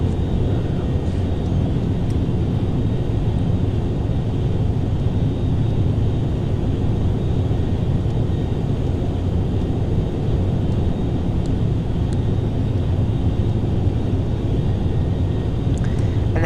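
Steady turboprop drone of an ATR 72 cruising at high speed in the FSX flight simulator, a continuous loud low rumble with faint high whine, even and unbroken throughout.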